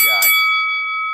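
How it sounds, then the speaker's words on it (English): A boxing round bell rings once with a sharp metallic strike, then a long, bright tone sustains and slowly fades; a voice is briefly mixed in at the start. "ring that bell"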